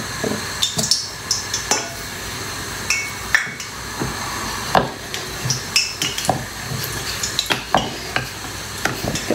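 Puri frying in hot oil, with steady sizzling under a string of sharp clinks and taps of a utensil against the pan, close and fairly loud, with no one talking.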